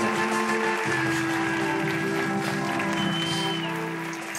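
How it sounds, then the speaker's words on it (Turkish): A studio audience at a Turkish television talk show applauds loudly and steadily, a thick wash of clapping that continues throughout and fades slightly at the very end. "Arkadaşım çok memnunsanız birbirinizden karşılıklı alkışlayın birbirinizi"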